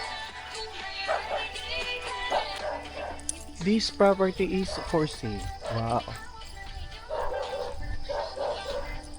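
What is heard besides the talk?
dogs barking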